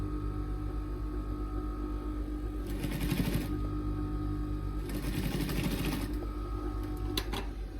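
A sewing machine stitches patchwork pieces for a small quilted mat, running in two longer bursts and one brief final spurt over a steady low motor hum, close up with no talking.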